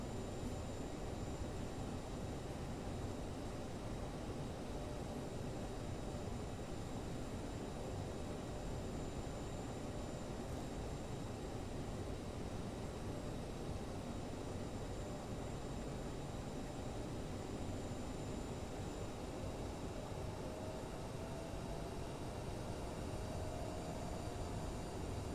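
A CRJ airliner in Microsoft Flight Simulator taxiing toward the runway at Newark Liberty International, with a steady, even engine drone and broadband hiss throughout, faint and unchanging, with no voices.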